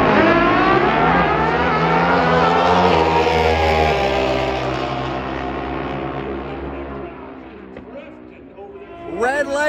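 An NHRA drag racing car launches down the strip with a huge, loud engine roar that sustains and slowly fades into the distance, followed by crowd noise and a commentator's voice at the end.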